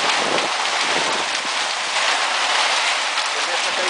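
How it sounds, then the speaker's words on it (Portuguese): Hail and heavy rain pour down in Sertãozinho, Brazil, a loud, continuous close-up roar of drops and stones striking surfaces, steady from start to finish. "Começa a cair pedra em Sertãozinho. Começa a chover forte, muito forte."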